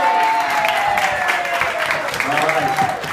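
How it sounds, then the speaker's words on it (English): An audience applauds at a primary election victory speech, a steady wash of clapping with a few cheers, while a speaker's voice carries over the top. "raise your hand up, give a round of applause"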